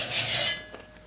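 A taper reamer blade gets one more sharpening pass, a short close scraping rub of steel that fades after half a second, followed by a faint tap and quiet.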